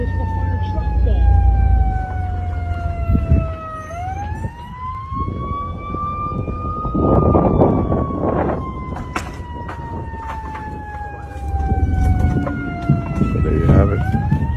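Fire truck siren wailing through a neighborhood during a house fire, sweeping up and down in long cycles over rumbling engine and traffic noise, with bursts of nearby commotion.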